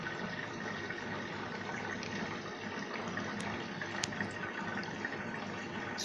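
An Arçelik washing machine fills with water during a wash cycle, a continuous, even rush of flowing water with a faint hum underneath and no speech.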